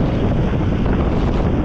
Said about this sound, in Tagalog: Pag inampas ka ng hangin, pagkalamig.